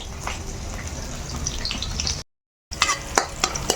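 Green chillies, onion pieces and spring onions fry in a pan, with a constant close crackling sizzle and stirring clatters. A brief gap of silence interrupts the sound before it resumes.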